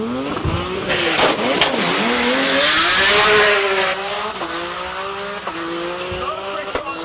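At the Simola hillclimb a race car launches hard with squealing tires and a loud engine climbing through rapid upshifts, holding near and powerful before pulling away, with crowd noise and commentary-like voices faintly behind.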